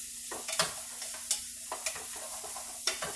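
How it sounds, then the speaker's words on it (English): Onions and jalapeño stirred and sautéed in a pan for a vegan spicy pasta, with a steady close sizzle and several sharp scraping strokes of a utensil against the pan. "Give it a stir, saute it a little bit, just to loosen up, just to loosen the onions and the jalapeno up a little bit."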